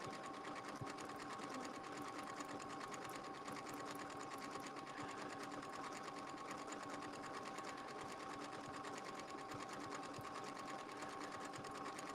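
A sewing machine runs steadily for the whole stretch, stitching right over a seam on a Valentine's Day fabric project, with a constant close mechanical hum and needle chatter and no pauses.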